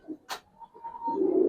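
Pigeons of Giribaz coloring and khaki types coo softly and close by: a few brief low calls, then one longer, steadier coo rising at the end, with no talk.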